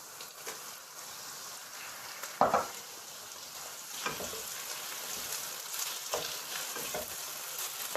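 Chopped tomatoes go into a pan of softened onions, cooking for bhindi masala. A sharp hiss bursts out, then settles into a soft, steady sizzle with occasional stirring scrapes.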